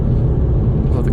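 A loud car travels over rough Texas roads, its deep, steady rumble and road drone filling the whole moment without a break.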